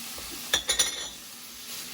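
Leek dropped into a hot pan where ahi steaks have been searing, a few quick metallic clinks and a brief hiss, then a faint sizzle that continues quietly.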